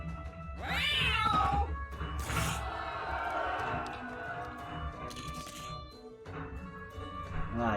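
Cat meowing in the Guild of Dungeoneering video game: a clear, drawn-out meow rising and falling near the start, followed by game sound effects and a softer cat cry near the end.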